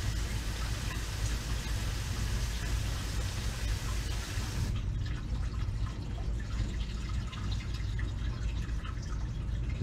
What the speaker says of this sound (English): You can hear the water nice and clear.